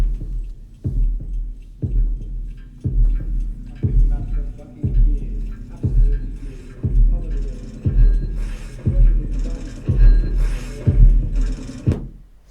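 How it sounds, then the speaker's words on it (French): Heartbeat sounds from Pink Floyd's Dark Side of the Moon play through a Devialet speaker: deep, loud double thumps repeat steadily about once a second over a faint low hum. "Donc c'est les battements de cœur."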